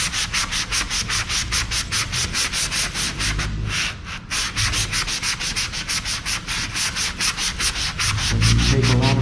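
Sandpaper roughens the surface of an inflatable paddleboard in quick, rhythmic back-and-forth strokes, close and steady, with a short pause partway and a heavier rub at the end.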